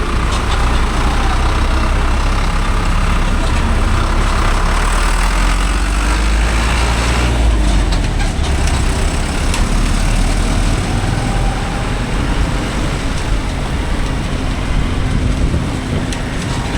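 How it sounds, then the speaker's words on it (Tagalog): A truck rumbles steadily on a morning road near Santo Tomas, Baguio City, while a TMX 125 Alpha motorcycle passes it, with a continuous low engine drone and wind noise throughout. "Kailangan ko lagpasan daw itong truck na to"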